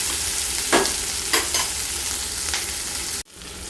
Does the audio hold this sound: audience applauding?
no